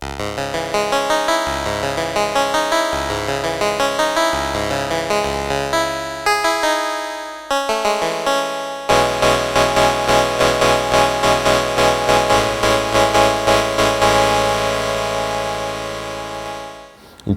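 A Vermona Piano-Strings synthesizer preset set to a long release tail, playing a sequence of sustained chords whose notes ring on and overlap, ending with a fade.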